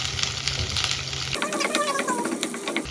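Ginger, garlic and onion frying in olive oil, a bright crackling sizzle that jumps louder and busier partway through as more goes into the pan, with scraping and stirring on top.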